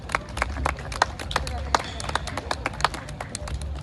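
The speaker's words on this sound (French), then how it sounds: "Je voudrais que vous applaudissiez pour M. Makaba ce soir, je vous en prie." At an African Heritage Month celebration in the Bronx, the audience claps for Mr. Makaba, with irregular sharp claps scattered over a murmuring crowd and voices talking nearby.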